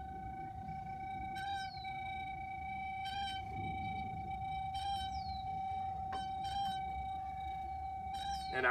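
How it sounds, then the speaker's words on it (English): Faint electronic chirps from a F.L.A.S.H. leak location transmitter, picked up underground beneath a concrete deck and dirt, repeat roughly every one and a half seconds over a steady tone and a low hum. "we're going to listen for a very light pulse"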